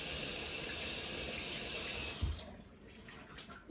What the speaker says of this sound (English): I'm going to get this spoon rinsed off